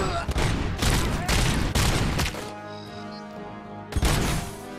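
Bursts of gunfire in the video game Robocop Rogue City ring out as rapid repeated shots in several loud volleys, with a brief lull before another blast near the end.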